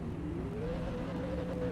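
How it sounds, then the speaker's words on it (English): V8 Supercar engines idle and rev on the grid at the Tasmanian round of an rFactor 2 series, a steady low drone with one pitch climbing slowly. "The engine notes are rising now."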